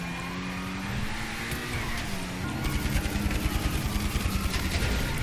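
A 1990s Lamborghini Diablo engine runs with a loud, steady drone that rises in pitch, then shifts into a harsher, pulsing roar, close and continuous with no talk.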